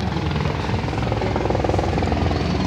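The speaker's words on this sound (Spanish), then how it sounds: "Siempre ha habido helicópteros" Helicopters fly over Copacabana during the 2016 Olympic Games, a loud, steady rotor thrum with rapid blade chop that fills the entire short stretch.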